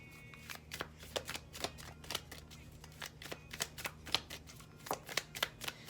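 A tarot card deck is shuffled in quick riffling bursts, a brisk run of crisp snapping flicks close to the ear over faint background hum.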